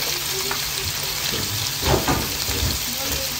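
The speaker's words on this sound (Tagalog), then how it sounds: "lagyan na natin yung breast part ng chicken, then yung liver." Chicken breast and liver hitting a pan with onions for chopsuey, a loud, dense sizzle with stirring clatter swelling midway, close up.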